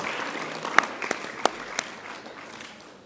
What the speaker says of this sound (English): Let's give Good Shepherd Primary a round of applause